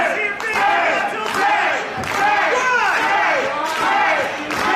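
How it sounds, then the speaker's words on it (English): Crowd at a live wrestling show roaring and cheering, a loud, sustained mass of shouting voices with swelling peaks throughout. "And the crowd coming to life now for Jay Savage and Shannon Reed."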